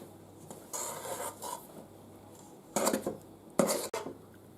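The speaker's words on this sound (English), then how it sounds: "And now, press it down with a spoon." A spoon presses and scrapes batter into a butter-greased mold tray for rum baba, making a few short metallic scraping strokes close up in a quiet kitchen.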